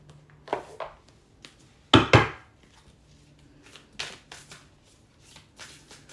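Tarot cards being shuffled and drawn, with short papery riffles and a couple of louder flicks and snaps, close and quiet with gaps of near silence.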